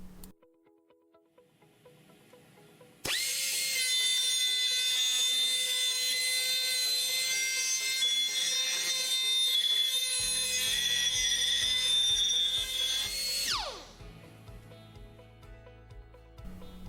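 A VSpin spindle turning at 33,000 rpm deburrs a machined part with a loud, sustained high-pitched whine that starts abruptly, holds steady for about ten seconds, then winds down while a low rhythmic machine rumble continues beneath.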